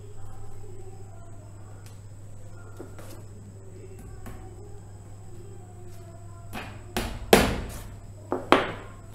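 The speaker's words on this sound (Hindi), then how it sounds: "दो कील यहां पे लगाऊंगा, एक इधर एक इधर" Nails hammered into a wooden canvas frame: a quiet, low-humming stretch with faint taps, then a few sharp, loud knocks near the end.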